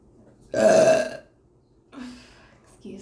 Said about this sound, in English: Gotta burp.